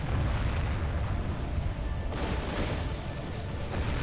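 Catapult shots from a strategy game land on enemy troops in a continuous rumbling barrage of low booms and crashing impacts, loud and dense throughout with a brief lull partway.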